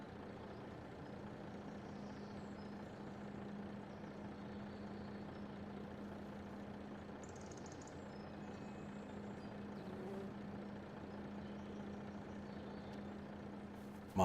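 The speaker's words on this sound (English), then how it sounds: "I'm just gonna pull the truck around" A truck engine in Farming Simulator 25 runs at a low steady hum, faint and unchanging, with no voices over it.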